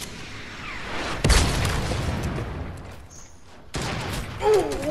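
A sharp, loud sniper shot cracks out in Fortnite squad gameplay, followed by a long rumbling tail, with a second burst of gunfire later; a voice talks faintly underneath.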